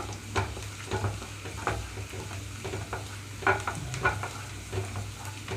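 Garlic cloves frying in a pan over a medium flame, a soft continuous sizzle broken by repeated stirring scrapes and light taps, close and unhurried, no talking.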